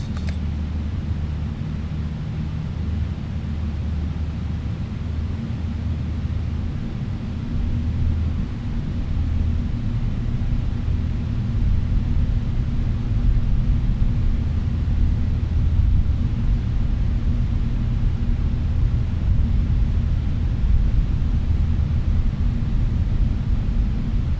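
A cargo plane carrying Formula 1 freight starts its takeoff roll once the brakes are released, a steady low jet-engine rumble that swells gradually in loudness, with no talk.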